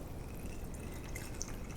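Water poured from a container through a funnel into a water bottle, a soft steady trickle with faint drips, fairly quiet and alone.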